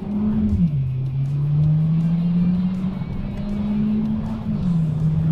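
A Skoda Octavia 1.8 Turbo drives with its exhaust set to quiet mode, giving a steady, moderate engine drone whose pitch dips and rises gently as it cruises.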